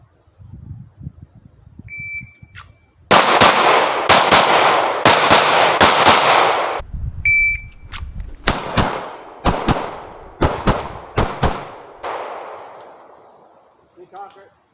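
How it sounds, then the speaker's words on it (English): A CZ P-01 Omega pistol fired in single and quick strings against a shot timer, with loud close bangs after the timer's beep, separated by pauses and a second timer beep, and brief talk at the start. "the first shot got me a little bit off because I'm so used to shooting a single action"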